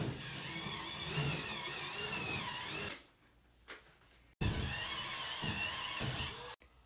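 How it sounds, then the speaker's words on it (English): Electric Homika spin brush scrubbing a bathtub, a loud steady motorized whir with harsh scrubbing texture that cuts off briefly in the middle, then resumes for several more seconds. "To clean the tub, I'm gonna be using my Homika spin brush"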